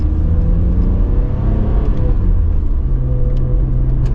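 A 1996 Nissan Skyline GT-R V-Spec, right-hand drive, heard from inside while driving: a steady, loud engine drone with low rumble and road noise, no speech.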